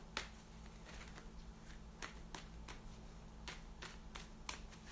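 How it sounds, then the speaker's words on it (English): Tarot cards being shuffled by hand, a quiet series of crisp riffling snaps and papery flicks at irregular intervals over a low constant hum. "Let's give it one more shuffle."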